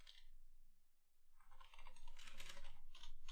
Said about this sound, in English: I was just typing a few things with my really, really loud mechanical keyboard